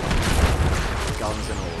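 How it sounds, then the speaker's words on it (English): Heavy battle noise in Wolfenstein: The New Order, dense booming explosions mixed with gunfire, loud and continuous, with someone talking over it. "Always a good start to the game, just riddling with explosions."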